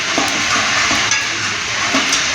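Hot ghee sizzles steadily in a pan for tempering a spiced mung dish at a catering kitchen, a loud continuous hiss with light stirring taps and no talk.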